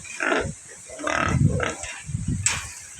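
A large pig grunts in low rumbling bursts, close by, with a few higher squeals or voices mixed in and steady background noise.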